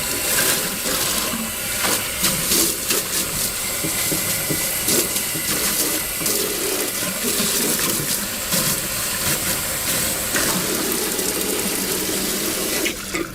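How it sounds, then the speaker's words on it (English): Water from a tap runs steadily over a floor scrubber pad being rinsed after use, a continuous broadband splashing hiss with small shifts as the pad moves under the stream, close and fairly loud, no talking. "And once again, we rinse the pad."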